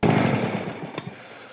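A GRUNHELM petrol lawn mower runs up close, its engine roar loud and steady at first, then easing off and thinning out, with a couple of sharp clicks near the end.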